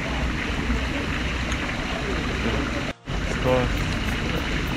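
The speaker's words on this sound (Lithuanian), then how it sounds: "Va čia yra vandens, galima įšokti fontanėlį." Water from a small outdoor fountain in Stopnica, Poland, hisses and splashes in a steady, fairly close wash that fills the whole stretch, with one brief dropout near the three-second mark.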